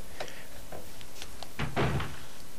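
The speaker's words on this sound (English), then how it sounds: "It's a door." A door opens in the Resident Evil video game, with a few clicks and taps leading into a louder sliding thunk near the end, heard alone without talk.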